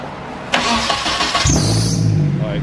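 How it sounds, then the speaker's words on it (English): An old, long-abandoned car cranks briefly, then its engine catches and settles into a steady idle, loud and close, with a voice briefly heard during the start. "Car still runs."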